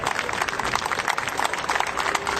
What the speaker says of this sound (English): join me in a round of applause for the United States Air Force Heritage Flight